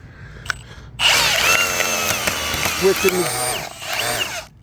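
A power drill turning a wood-splitting auger whirs up and strains, its pitch dropping as the anti-kickback clutch slips with sharp clicks, close and loud.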